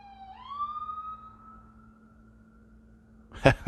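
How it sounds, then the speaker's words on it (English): Emergency vehicle siren sounding next to a hospital, a single rising wail that holds a steady tone for a few seconds before a short burst of nearby voices cuts in. "We got the sirens. We got the hospital next to us."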